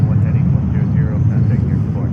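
A JetBlue airliner takes off at JFK Airport in New York, its engines giving a steady, loud low roar throughout with no break, while a voice is present at points.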